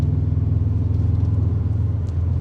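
Subaru Impreza WRX GF8 estate, an AWD Japanese-market car, driving on a road, with a steady low engine drone and road rumble heard from inside the cabin.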